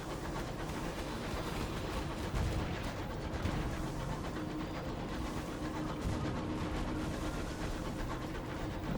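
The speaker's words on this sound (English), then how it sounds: "Hear more weapons fire." Distant weapons fire in the video game Sunless Skies, a steady rumble of overlapping booms and crackling bursts that continues for the whole stretch without voices.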